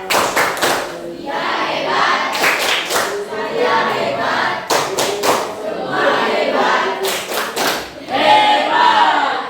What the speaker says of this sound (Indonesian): Berikan tepuk hebat kepada dia pada ngomong.